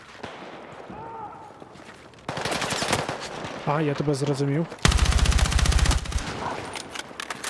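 Video game gunfire in Battlefield 6, loud bursts of rapid automatic fire in two long stretches, with a voice speaking briefly over the shooting.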